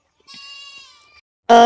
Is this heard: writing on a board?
no